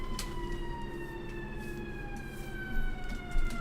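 An ambulance siren wails steadily in gliding tones at moderate distance, sounding alone without voices.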